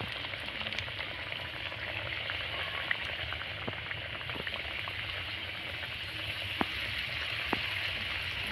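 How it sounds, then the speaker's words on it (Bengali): Pitha cakes deep-fry in hot oil in a heated pan, a steady close bubbling sizzle with faint pops and crackles that goes on throughout without talk. "এইভাবে আমি লাল লাল করে ভেজে নেব।"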